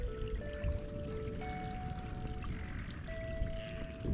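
Tide water rushing into a remote lagoon on the Australian coast, a steady broadband wash of flowing, pouring water with no voices in the clip.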